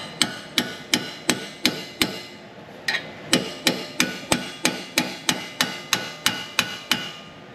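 Steady, evenly spaced hammer blows strike chisels against a Ford wheel bearing, roughly three sharp metallic hits per second, loud and close, continuing without pause for the whole stretch.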